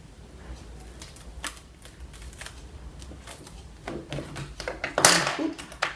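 Cut paper card is peeled off a ScanNCut cutting mat close by, giving soft crackling tears in short bursts that grow louder and sharper toward the end.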